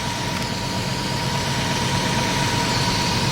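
A car engine idles steadily through its original exhaust with a Y pipe and a large catalytic converter, giving a low, even exhaust rumble and a faint hum, unchanging throughout.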